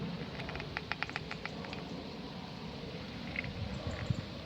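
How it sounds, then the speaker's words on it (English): Rain drips patter lightly and irregularly onto gear at a carp fishing syndicate lake on a wet day. A brief cluster of sharper ticks comes first, followed by a steady soft background hiss. "The rain drips are starting to come through now."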